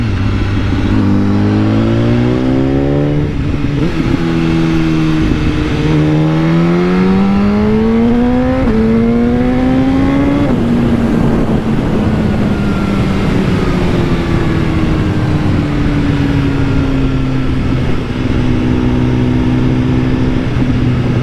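A BMW HP4 motorcycle engine roars loud and close while riding, revving up through several gears with rising pitch, then settling into a sustained, slowly falling drone under wind noise.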